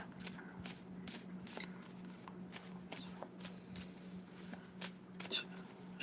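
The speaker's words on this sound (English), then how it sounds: "Shuffle up these cards." Tarot cards being shuffled by hand, producing repeated crisp riffling bursts at an irregular rhythm over a steady low hum, close and moderately quiet.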